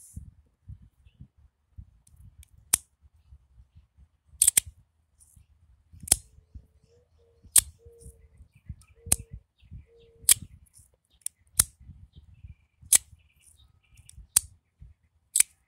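Small sharp ratcheting clicks from the ridged edge of a CompoForm Argyle fidget coin, sounding like a tiny zip tie, come in spaced pairs and singles over faint handling noise.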